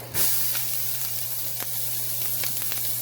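Chopped onion sizzles in leftover grease in a pan, a steady loud frying hiss that starts abruptly at the drop and keeps going under a few faint clicks and pops, with no talking.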